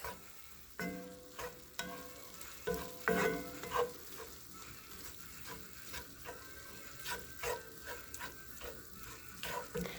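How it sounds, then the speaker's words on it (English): Food with seasoning cooks in a pan, giving a quiet sizzle broken by irregular stirring scrapes and utensil knocks, close and uneven in loudness. "Let that cook with the seasoning."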